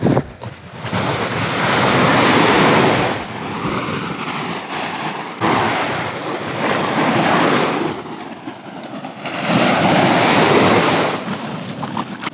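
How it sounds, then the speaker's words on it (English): Waves wash onto a tiny beach on Koh Rong Samloem, Cambodia, in loud, rolling surges that rise and fall several times, mixed with heavy wind buffeting the microphone. "So this is it, Lazy Beach. Tiny little beach, check it out."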